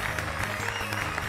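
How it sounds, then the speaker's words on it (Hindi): A brief burst of studio audience applause for the bride of the day on a Rajasthani dance show, a steady wash of clapping over a low musical backing. "जोरदार तालियां हो जाएं"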